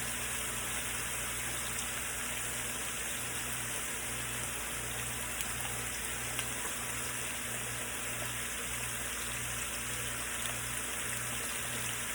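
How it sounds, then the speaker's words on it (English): Tap water runs steadily while hands are washed in a home kitchen during cooking, a continuous moderate hiss with a faint low hum beneath and no talking. "Wash my hands again."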